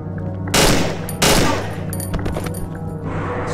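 Gunfire rips through the horror video game Cry of Fear, two loud close blasts followed by rapid lighter shots and rattling over a low droning background.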